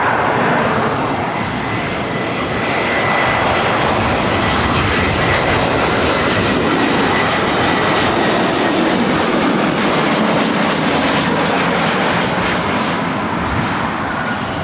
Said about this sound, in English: Spirit Airlines 595 coming in from Oakland on an A320 Neo.